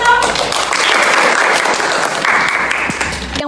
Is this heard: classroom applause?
yes